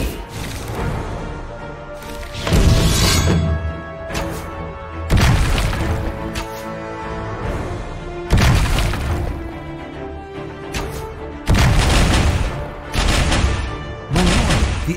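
Cannon fire in the strategy game Dynasty Defence Mini Heroes: heavy booming blasts recur every few seconds, each a loud crashing burst over a continuous din of battle sound and music.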